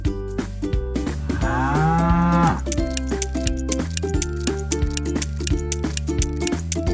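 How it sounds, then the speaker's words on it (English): A cow moos loudly once in a long, drawn-out call over a bouncy, rhythmic children's music backing that continues throughout. "What says moo? Is it the horse, the sheep, or the cow?"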